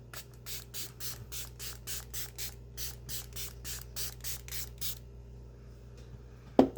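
A setting spray bottle pumped over and over onto a face in a fast, steady rhythm of short misting hisses, about sixteen bursts, followed by a brief clunk.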